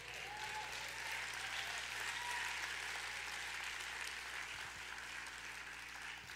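An audience at a faith event claps together in a steady, even wash of applause that stays faint and distant throughout, with no speech over it.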